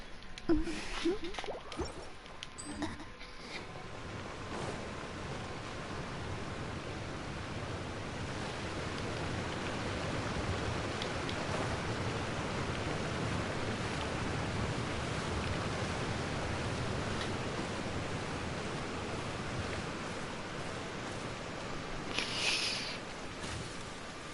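Heavy rain in the game Genshin Impact pours down in a constant, dense hiss that continues without a break.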